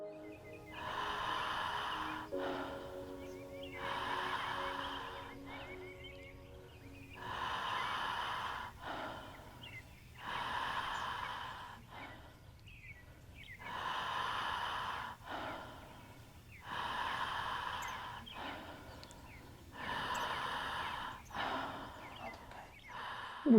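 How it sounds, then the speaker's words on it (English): People breathe deeply during a group breathwork session, long rhythmic inhales and exhales rising and falling in regular waves, soft and close, with faint tones in the background and no talking. "how the frequencies change every time they're breathing"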